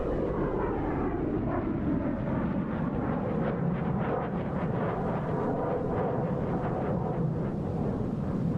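Jet aircraft roar through a simulated air show in DCS during a diamond formation bomb burst, a steady, loud, broad engine rumble with a slowly shifting whoosh and no talking.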